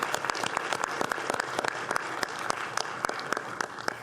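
An audience at a Brazilian Jovem Senador program ceremony applauds steadily, dense clapping from many hands filling the whole stretch with a few sharper claps standing out.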